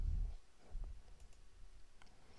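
Computer mouse clicks while selecting elements in design software: a few faint, sharp clicks spaced irregularly over quiet room noise and low rumble, with no talking.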